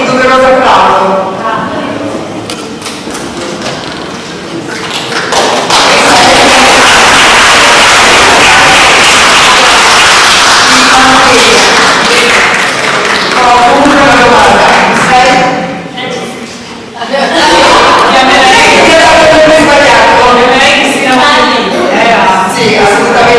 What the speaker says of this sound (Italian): Ragazzi, venite a prendervi il doveroso applauso.